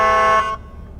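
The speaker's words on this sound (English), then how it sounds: "we'll have air horn, electronic air horn with the horn press" An electronic air horn sounds from a Ford F-250 battalion chief vehicle, one loud steady blast of about half a second that cuts off sharply, leaving quiet background.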